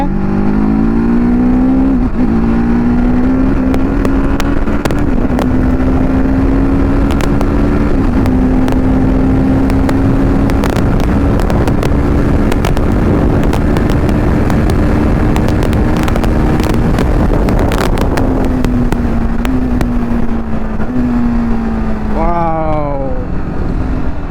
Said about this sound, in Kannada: ನೋಡ್ರಿ ನಾನು ಕ್ಲಚ್ಚೇ ಹಿಡಿತಿಲ್ಲ, ಇದೇ ಕ್ವಿಕ್ ಶಿಫ್ಟರ್ ಅಂದರೆ